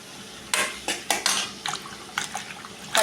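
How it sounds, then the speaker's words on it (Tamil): Washed, chopped brinjal drops into a pan of softened tomato and onion as a series of short, splashy clattering bursts, several in quick succession, close and fairly loud over quiet background. "இந்த ஸ்டேஜில் வந்து நம்ம கத்திரிக்காயை போட்டுக்கலாம்"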